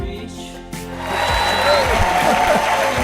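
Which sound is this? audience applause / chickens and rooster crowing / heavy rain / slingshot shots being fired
audience applause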